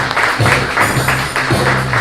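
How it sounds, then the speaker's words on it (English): Loud audience applause at an evening magic show, a thick wash of clapping with slight surges in a rhythmic pattern and a faint tonal hum above. "Everyone, give him a round of applause."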